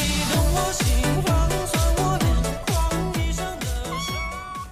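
A young kitten meows over and over in loud, close, evenly spaced cries, about ten in a row, with no talking.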